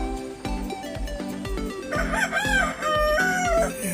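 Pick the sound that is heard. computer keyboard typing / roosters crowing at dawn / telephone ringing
roosters crowing at dawn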